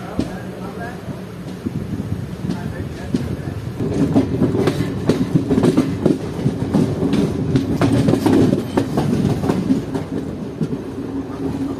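A Nagercoil–Coimbatore superfast express train rumbles along the rails with rhythmic clickety-clack, a loud, close, continuous roar that swells midway and stays steady, with no talking.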